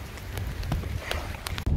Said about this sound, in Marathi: हे बघा पार्किंग जोरात झाला पाऊस